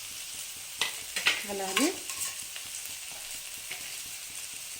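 Capsicum and cabbage stir-fry in a pan for vegetable noodles, a steady near sizzle with a few sharp scraping stirs and clanks early on, while a voice speaks briefly.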